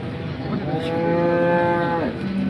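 A large cow gives one long, loud moo close by at the Sangola cattle market, rising and holding before trailing off.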